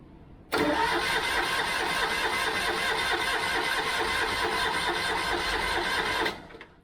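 A Citroen Acadiane engine cranks and catches abruptly, then runs loud and steady up close for several seconds before cutting out near the end; no one speaks.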